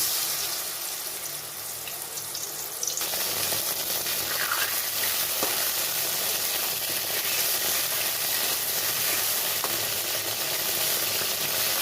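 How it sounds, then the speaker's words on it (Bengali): Mushrooms dropped into hot mustard oil in a wok, bursting into a loud, continuous sizzle after a quieter start and frying steadily up close, with occasional faint clinks. "তো এখন আমি মাশরুমগুলো দিয়ে দিচ্ছি ভাজার জন্য।"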